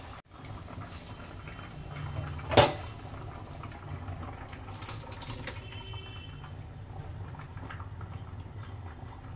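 Lentils (dal) boil steadily in a pot for vetki khichuri, a low continuous bubbling simmer throughout, broken by one sharp clink near the start.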